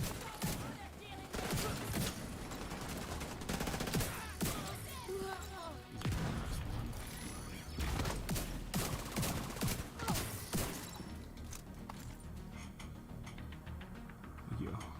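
Gunfire in The Division 2 video game: repeated bursts of shots and sharp impacts crackle through a busy battle soundscape, with a voice speaking at times under the shooting.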